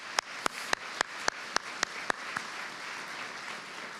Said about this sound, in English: So could we give all of them a round of applause?